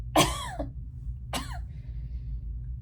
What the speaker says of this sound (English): I apologize in advance for the coughing